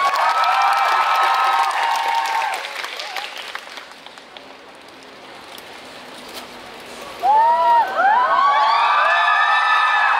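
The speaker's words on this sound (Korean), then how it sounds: "그럼 박수로 청해 드리겠습니다." Audience applause at a musical gala concert in a theater, a dense, sustained clatter of many hands that thins out. Then a singing voice begins over the fading clapping.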